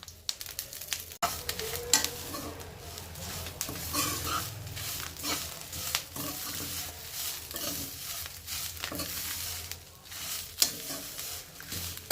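Ingredients for curry leaf powder fry in oil in a pan, producing a soft sizzle with scattered scraping and clattering stir strokes. It is fairly quiet and close, with no voices.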